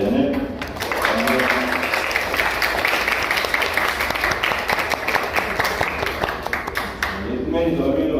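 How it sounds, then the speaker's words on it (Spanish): An audience applauds for Janet at a university criminal procedure class, steady dense clapping filling the room for several seconds, with a brief pause near the end before clapping resumes. "que un aplauso para Janet"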